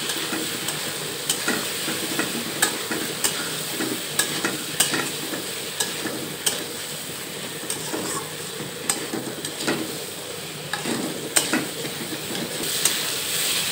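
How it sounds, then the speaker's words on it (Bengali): Paneer curry masala sautéing in a pan with turmeric and salt: a steady close sizzle with repeated scraping stir strokes at an irregular rhythm throughout, no talk. "হলুদ গুঁড়া আর লবণ দিয়ে আবারও সুন্দরভাবে কষিয়ে নেব"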